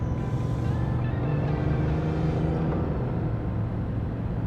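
A 2018 Honda Goldwing motorcycle engine holds a steady, close rumbling drone that shifts up into sixth gear, with a continuous loud low hum and no clear break.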